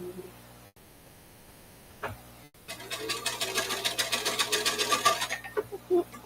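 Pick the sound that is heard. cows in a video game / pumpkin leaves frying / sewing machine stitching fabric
sewing machine stitching fabric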